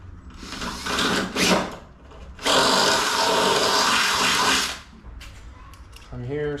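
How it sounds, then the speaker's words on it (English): A power drill bores a hole in a Mazda Miata, first a short burst, then a longer sustained whine of several seconds, close and loud, with brief talk and clatter around it. "first thing we're gonna do is we're gonna drill that hole."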